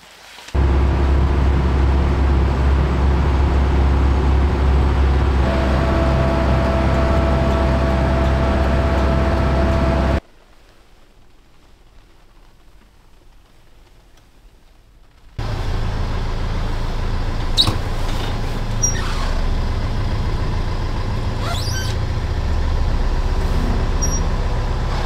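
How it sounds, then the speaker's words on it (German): A Mercedes 508 former fire truck converted into a camper van drives along, its loud steady diesel engine drone filling the cabin, then a few seconds of near quiet before the engine and road rumble return. "Daniel fährt mit seinem Papa und unserem Feuerwehrauto in die Werkstatt"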